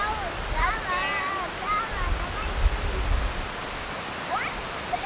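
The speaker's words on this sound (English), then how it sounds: "We're gonna go over there and check out the waterfall." Waterfall just outside New York City, a broad steady rushing roar heard from nearby, with voices talking over it.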